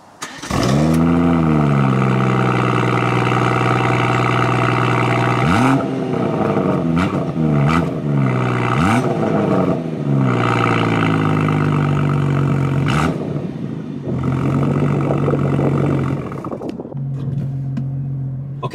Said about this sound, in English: we're going to get it fired up. I'll let you hear what that actually sounds like